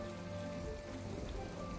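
Rain on a cold, dreary day in the farming game My Time at Portia patters steadily and evenly on surfaces, a continuous wash of drops with faint background music and no talking.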